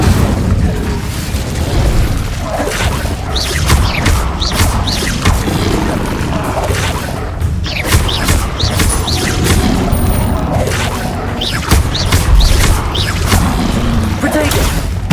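Incendio fire-spell blasts in Hogwarts Legacy on PS5 go off as a rapid, dense series of loud booms and crackling bursts across the whole stretch, mixed with combat sounds and some voice.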